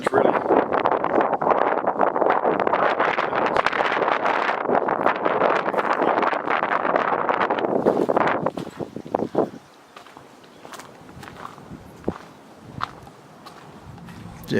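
Strong wind buffets the microphone in a loud, continuous roar around an abandoned factory with a collapsed old building, then drops away to a quieter stretch with scattered footsteps, rustles and light knocks.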